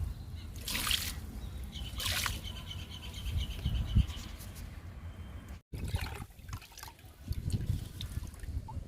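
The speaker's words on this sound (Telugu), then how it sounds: "మల్లె మొక్కకి ఇస్తున్నా లిక్విడ్." Liquid fertilizer poured onto the soil of a potted jasmine plant, a close, steady wet trickling and splashing with brief louder gushes and a short pause midway.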